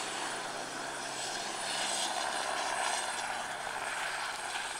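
A helicopter arrives to land at a busy heliport used as a field airfield, its engine and rotor making a steady, broadband roar that swells slightly mid-way and stays fairly distant, with no talking.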